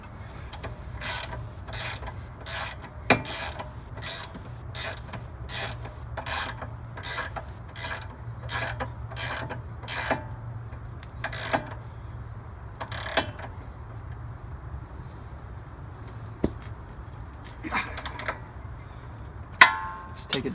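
Ratchet tightening a bolt by hand during a spacer lift install, a long run of steady, evenly spaced loud clicks up close, then scattered quieter clicks and handling noises near the end.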